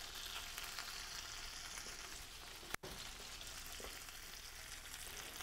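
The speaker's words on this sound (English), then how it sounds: "baste the fish with a clarified butter" Atlantic salmon fries in clarified butter with rosemary, a dense, even sizzle and crackle that holds steady close up, broken by one brief dull knock partway through, with no talking.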